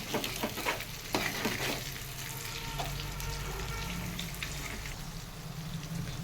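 Eggs and fish fry in a pan in village-style cooking, sizzling steadily while a utensil stirs and scrapes in a few quick bursts near the start, then continuous frying alone.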